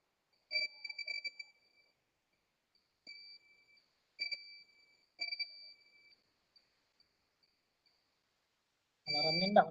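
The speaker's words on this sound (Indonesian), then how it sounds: "Alarmnya enggak mati. Ah, sekarang sudah mati." A smart IoT home alarm beeps in several short bursts of high, steady tones with pauses between them, fairly faint, before it stops; a brief louder noise follows at the end.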